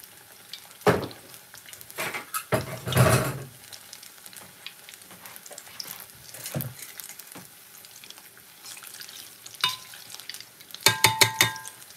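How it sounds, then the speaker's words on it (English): Plantain frying in a pan gives a soft continuous sizzle, broken by several sharp clanks and knocks of utensils and cookware, plus a quick cluster of metallic taps near the end. "you can fry your plantain and it come out lovely and nice"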